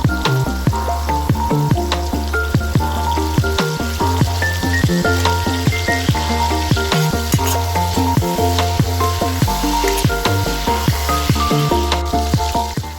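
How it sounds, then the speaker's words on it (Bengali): Shrimp and chicken fry in hot oil in a pan, giving a loud, steady sizzle throughout with frequent clinks and scrapes of stirring, alone with no voices. "গরম তেলে আমরা চিংড়ি আর চিকেনটাকে ফ্রাই করে নেব।"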